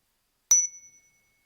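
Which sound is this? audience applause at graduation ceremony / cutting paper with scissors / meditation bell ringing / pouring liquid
meditation bell ringing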